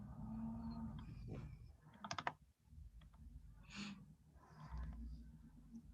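Quick bursts of typing on a computer keyboard, close and fairly quiet, with irregular clusters of key clicks between soft breaths.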